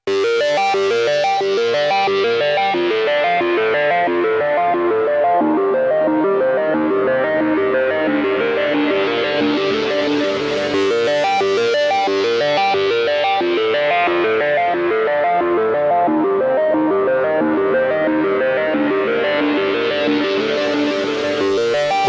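A sustained, distorted industrial synth riff repeats steadily while a low-pass filter sweeps slowly open and shut, with reverb, delay and panning automation adding echoing width and motion.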